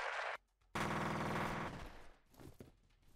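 A gun in the video game F.E.A.R. fires rapid bursts of close, loud automatic gunfire, a short burst then a longer rattling stream after a brief gap, trailing into echoing impacts.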